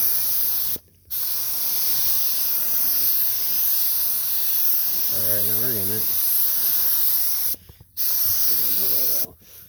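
Paint spray gun hissing steadily as it coats a car body, a continuous broadband spray running through most of the stretch with two brief pauses, while someone talks over it.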